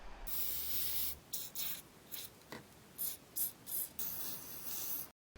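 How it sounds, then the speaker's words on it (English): Bursts of aerosol gear grease spray hiss onto the folding mirror gears of a BMW E39, a long one followed by several short puffs in quick succession, close and fairly loud with no talking. "Now take out your favorite gear grease and liberally spray around all gears."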